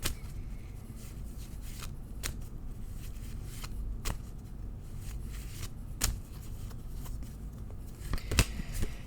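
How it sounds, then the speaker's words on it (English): Tarot cards being shuffled by hand, a steady soft riffling with sharper snaps every couple of seconds, close up and without talk. "I shuffle until Spirit asks me to stop, and then I'll lay the cards out"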